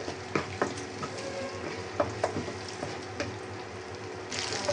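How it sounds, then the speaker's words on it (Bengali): Three eggs fry with onions in oil for vegetable noodles, a steady sizzle with scattered pops and stirring clinks close by. "ডিম 3টা দিয়ে আমি এভাবে নুডলসের তেলের মধ্যে পেঁয়াজের সাথে মিশিয়ে নেব"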